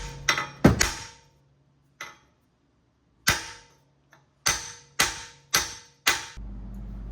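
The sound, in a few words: lead hammer striking metal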